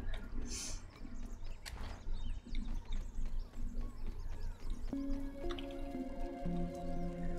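A character drinks water in the survival video game Grounded, with wet squishy slurping and dripping sounds against steady game ambience, followed by tonal game effects.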